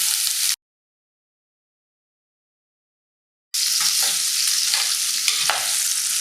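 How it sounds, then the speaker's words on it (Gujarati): Cut vegetables for undhiyu sautéing in hot oil, a bright steady sizzle with stirring scrapes that cuts out into silence, then returns loud and close. "આને આ રીતે તેલમાં લગભગ 2 મિનિટ માટે સાંતળવાના છે"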